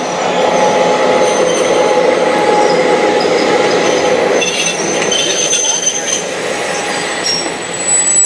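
Polar Express train rolling past in Santa Cruz, loud and close, with sustained high squealing wheels and rail noise over a continuous rumble for several seconds.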